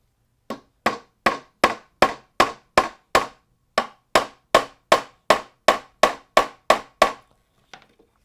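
A hammer drives nails through leather into a wooden sword: about sixteen sharp, close, evenly spaced strikes at roughly two per second, with one short pause midway and a faint final tap.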